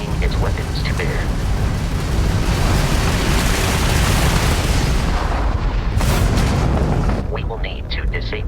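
Crimson Fleet starship weapons fire in Starfield space combat, a dense continuous roar of booming blasts lasting most of the stretch, with a brief surge near the end and a voice talking over it.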